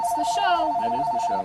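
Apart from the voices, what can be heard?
telephone ringing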